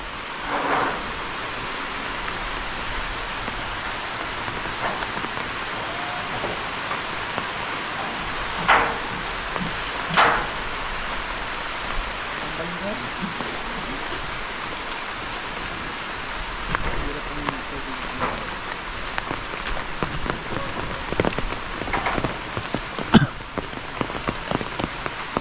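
Steady heavy rain pours down, drumming on a metal roof, continuous and close throughout with occasional louder spatters.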